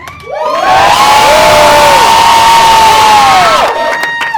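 Comedy show crowd cheering and shouting, a loud close swell of whoops and yells that rises quickly, holds for about three seconds, then cuts off sharply.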